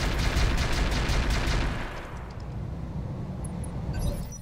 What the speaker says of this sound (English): Let's shoot the Centurion.